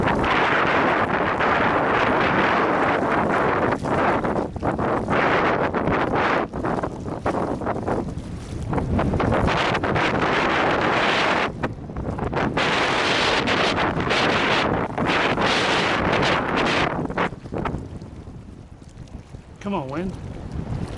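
Strong wind gusting across a microphone at Big Meadows Reservoir in Colorado during fly fishing, a loud, steady roar that swells and dips and fades near the end.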